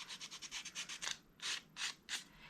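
An emery board rubbing along the edges of paper card: a quick run of short light strokes that slows into a few longer, louder rasping passes, close and alone.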